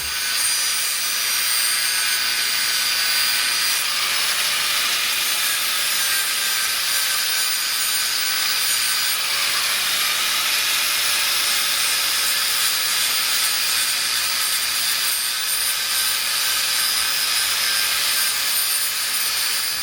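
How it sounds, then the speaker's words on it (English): A grinder works on a brake backing plate on a Supra during a big brake kit install. It gives a continuous, loud, high-pitched grinding whine with a slight pitch dip midway, close by and steady for about twenty seconds, with no talking. "let me just take this off, and then I'll grind it"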